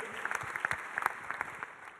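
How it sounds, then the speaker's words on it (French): Audience applause at a startup pitch event rises as a dense wash of many hands clapping at moderate distance. It stays steady and even throughout with no voices above it. "Applaudissements, mesdames, messieurs, pour ce témoignage de Loïc Paulet."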